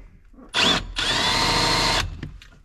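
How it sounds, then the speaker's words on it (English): A hammer drill whirs loudly and close during a clutch pedal install on a Turbo Silverado getting a T56 swap, with one short burst, a pause, then a longer steady run before stopping. "is this thing a hammer drill?"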